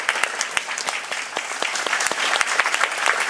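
Steady applause from an audience at a 150th anniversary dinner for Ave Maria Press, dense hand claps sustained throughout at moderate level with no talk.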